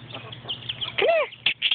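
Chickens give a brief, loud squawk with a rising-then-falling call near the middle, over a low background hum and a few scattered clucks.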